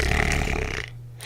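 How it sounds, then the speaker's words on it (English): A sleeping dog snoring close by, a loud rough rasping breath that tails off into a brief quiet, followed by a low hum. "My dog is snoring."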